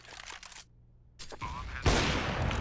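Sniper rifle shots fired through a box in a tactical shooter game, with a couple of loud, sharp reports separated by a brief silence, the last blast near and booming.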